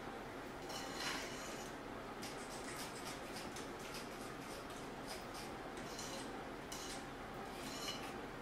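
A utensil stirs madeleine batter with a pinch of salt in a bowl, faint soft scraping and light clinks repeating in an uneven rhythm, quiet and close with no talk.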